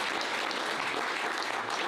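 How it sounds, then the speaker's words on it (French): An audience applauds five speakers after a talk on identity governance and application security, with brief, dense, steady clapping from a mid-sized crowd. "Et donc, nous vous applaudissons tous les 5"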